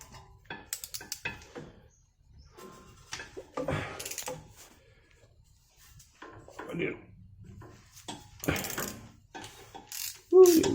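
A hand ratchet clicks in tightening mode on a starter motor bolt of a WJ Jeep 4.7 Powertech, sounding as quick bursts of close mechanical ratcheting that alternate with someone talking.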